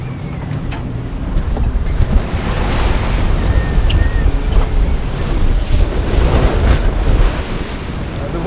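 Ocean waves and strong wind buffet a sailboat on a heavy North Atlantic crossing, a loud, continuous rush of surf and gusts with wind roaring across the microphone.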